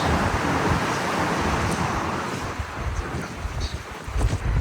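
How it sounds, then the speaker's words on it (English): Strong wind buffets the microphone on an open-top tour bus in San Francisco, a loud continuous roaring rush with gusty low rumbles throughout and no voices. "it's incredibly windy"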